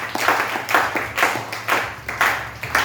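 A church congregation claps in a steady rhythmic beat, about two claps per second, many hands together and fairly close, with no speech over them.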